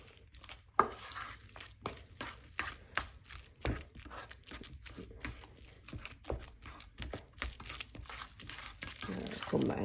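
Banana fritter batter with cinnamon and nutmeg is stirred in a bowl, making quiet, irregular clicks and scrapes close by with no talk.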